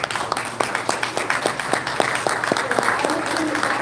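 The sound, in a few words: audience applause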